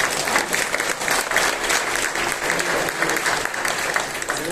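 An audience claps loudly and continuously for a violinist at a Geet Ramayan concert in Pune, a dense, even ovation that holds throughout.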